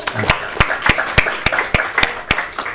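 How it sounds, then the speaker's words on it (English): Sparse, evenly spaced claps from a small audience at a town council budget meeting, each clap sharp and distinct over a low room background. "let's give her a round of applause first"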